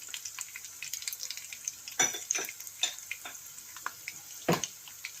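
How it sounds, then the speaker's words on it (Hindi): Cashews, cardamom and cloves fry briefly over a low flame for jaggery rice, a faint hiss with light scrapes and clinks of a spoon in the pan, quiet and close. "और इसको फ्यू सेकंड के लिए फ्राई करना है।"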